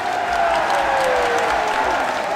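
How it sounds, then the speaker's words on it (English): Distant crowd cheering from a school building in the visual novel game IxSHE Tell, a steady roar that carries like echoing applause from classrooms, with no talk over it. "Sounding cheer echoes throughout the school building from distant classrooms."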